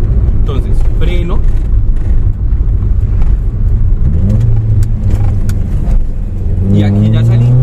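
A car driving at close to 40 in third gear, then braking, with a steady loud engine and road hum throughout and a person talking over it.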